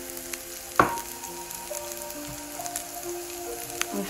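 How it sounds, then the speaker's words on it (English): Mushrooms fry in a little oil in a saucepan with a soft, steady sizzle and crackle. A sharp clink comes near the start and light pops are scattered through. "We just put my mushroom in the saucepan with a little bit of oil."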